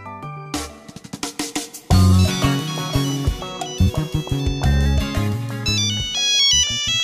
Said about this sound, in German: Ich glaube, ich muss kurz einen Anruf tätigen.